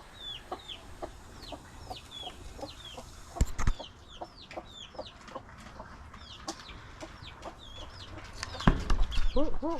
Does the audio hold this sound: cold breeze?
no